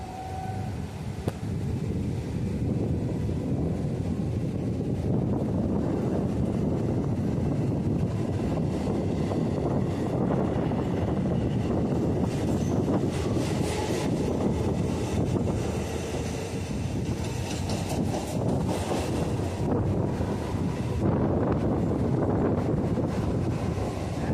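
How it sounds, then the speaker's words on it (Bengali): A suburban local train runs from Sonarpur toward Baruipur, a dense steady rumble of the moving carriage heavily buffeted by wind across the microphone, loud and continuous. "আমাদের ট্রেন ছেড়ে দিল মল্লিকপুর রেলওয়ে স্টেশন"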